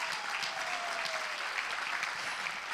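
A church congregation bursts into sustained applause, many hands clapping in a dense, even roar that fills the room from start to finish, with a faint voice briefly audible underneath.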